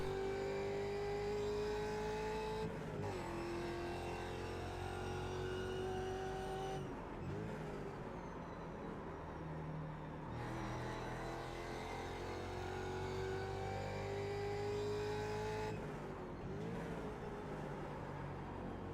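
A Ford Mustang FR500S race car in the iRacing simulator roars steadily and loudly throughout, its engine note climbing and then dropping sharply at several gear shifts, with no talking.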